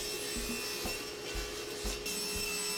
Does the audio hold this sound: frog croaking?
no